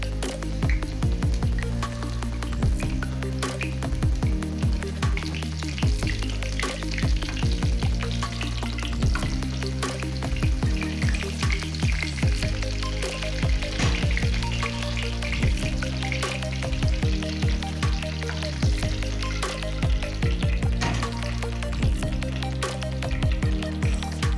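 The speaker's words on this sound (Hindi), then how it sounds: "इसको दोनों तरफ से गोल्डन ब्राउन होने तक फ्राई करें।" A chicken chapli kabab patty shallow-frying in hot oil, a loud, continuous close sizzle with dense crackling and popping throughout and no talking.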